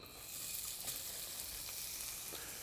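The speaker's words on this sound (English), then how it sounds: "We're going to add some red onion." Red onion sizzling in a hot pan for chicken curry, a close, steady crackling fry with light stirring and no talk.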